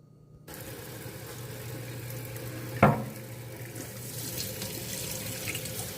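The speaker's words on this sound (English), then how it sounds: "you're going to want to just rinse these seeds off as well" Water runs steadily from a tap over tomato seeds held in a fine mesh strainer, a gentle continuous rinse with a brief louder splash partway through and no talking.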